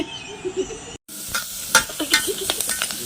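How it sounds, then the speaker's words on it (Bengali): Spring onions, green chilli and garlic sizzle in hot oil in a hostel kitchen, with a steady frying hiss broken by a brief cut and then repeated stirring scrapes, close and fairly loud. "এখন আমাদের পেঁয়াজ কলি ভাজা চলছে, অভিলিসা ভাজছে পেঁয়াজ কলি, কাঁচা লঙ্কা আর এখন পড়ছে রসুন।"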